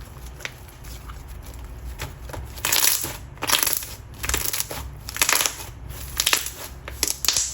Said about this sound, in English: Definitely try an OG thick slime if you like really thick slimes with loud pops.